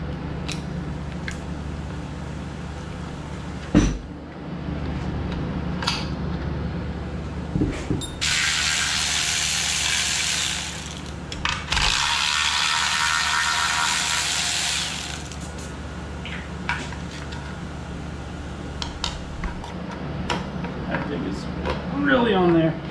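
A ratchet works on a bolt holding the shift cable bracket on a car transmission during a teardown, with scattered mechanical clicks and clanks, two sustained hissing stretches and ongoing workshop noise under talk.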